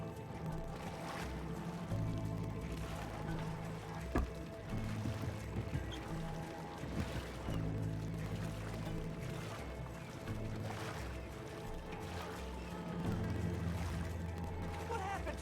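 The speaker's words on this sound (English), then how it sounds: "My escape in a rowboat is not working." Water sloshes and splashes steadily around a small rowboat in Red Dead Redemption 2, with creaks and oar strokes mixed in, close and continuous.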